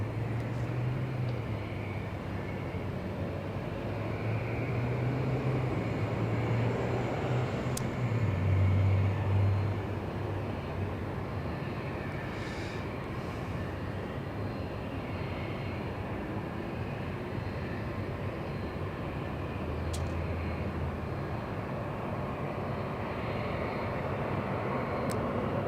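An airliner landing at Los Angeles International Airport, a steady low engine roar and rumble that holds for the whole stretch, with distant airport background and no talk.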